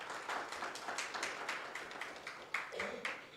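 Audience applause at a formal HR best-practice sharing event, a steady wash of clapping lasting a few seconds, moderately loud and continuous, with a voice briefly heard near the end.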